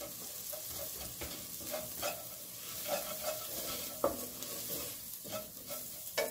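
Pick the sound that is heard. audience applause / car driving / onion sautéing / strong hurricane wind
onion sautéing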